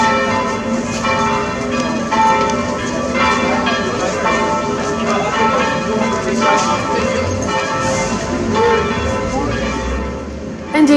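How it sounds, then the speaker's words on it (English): Church bells ring across a road in Paris near the Seine, a dense, continuous peal of overlapping tones lasting throughout at a fairly loud level with outdoor ambience. "the bells may ring from the church across the road"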